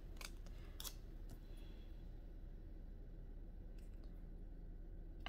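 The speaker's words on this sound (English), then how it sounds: "I think I'm trimming just a tiny bit." Scissors trim a small clear planner sticker, giving a few quick, faint snips near the start and again briefly later over a quiet background hum.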